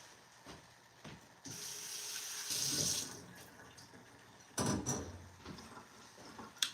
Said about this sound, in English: So I'm going to rinse it off, just rinse out all the extra salt.